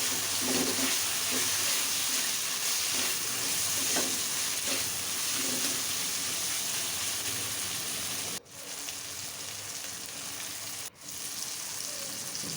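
A tomato drops into hot oil and spices for a river pangas fish and potato curry, setting off loud, continuous close sizzling with stirring scrapes and two brief dips in the frying hiss.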